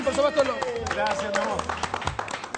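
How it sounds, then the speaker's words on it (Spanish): Studio audience at a Chilean television show claps for a participant, with scattered applause mixed under loud speech and laughter close by. "Un aplauso para Joseph"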